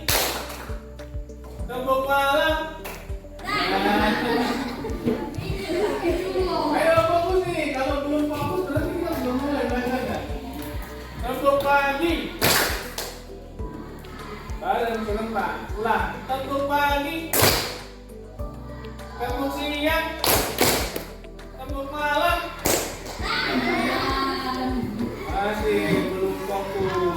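A classroom of children plays a tepuk clapping game, with short sharp bursts of group clapping between stretches of chanting and singing voices, some claps crisp and close, others looser and scattered.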